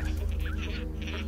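Parrots squawk in the Minecraft video game, quick raspy bird calls heard over a steady buzzing game background hum.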